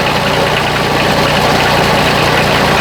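A Bobcat 371 skid steer fitted with a swapped-in Kubota diesel engine runs at a steady, loud, close rumbling idle with a fine rhythmic knock throughout, and no voices over it.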